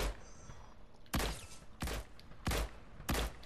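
Four loud, sharp gunshot bursts in a battle royale video game match, spaced roughly evenly over a few seconds, each a hard crack with a low thump against quieter game ambience.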